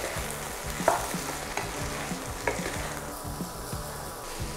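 Okra with tomato pieces, chili powder, salt and turmeric is stirred in a frying pan, giving close repeated spoon scrapes over a steady sizzle with no one talking.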